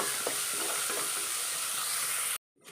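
Dried chilli, curry leaves and crushed spices sizzling and being stirred in a hot pan for rasam, a dense steady frying hiss with a few soft scraping knocks, then it cuts off abruptly.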